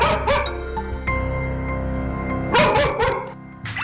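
A dog indoors lets out a quick series of loud, sharp barks and yips. A few short bursts come near the start and a heavier cluster follows later, close and clear with no talking.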